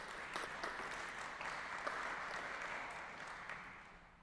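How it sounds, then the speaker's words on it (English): Audience applause at a security talk, a fairly faint, steady wash of clapping from a seated crowd that gradually fades toward the end. "Round of applause for Ryan."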